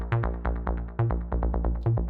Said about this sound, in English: I have this bass line. It's one of the main sounds on track 5.